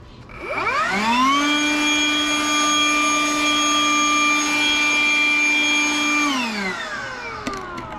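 A Ryobi 18V Jet Fan Blower spins up and runs at a steady, loud whine and rush of air as it blows debris off tiles, winding down near the end; no one speaks.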